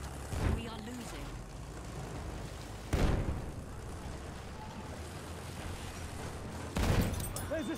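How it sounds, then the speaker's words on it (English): Battlefield 1 battle with machine gun fire: a few short bursts of gunfire rise out of a low, steady rumble of battlefield ambience, fairly distant and muted. "Enemy machine gun!"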